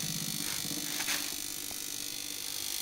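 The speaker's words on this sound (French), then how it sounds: "Le ventilateur tourne" The fan of a BIURTU FX42 diesel air heater, being repaired for an E6 fault, spins up while running on low voltage, giving a steady close buzzing whir with faint mechanical rattles and no talk.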